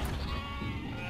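A single short sheep bleat from the video game UnMetal, heard alone and fairly faint against a soft background.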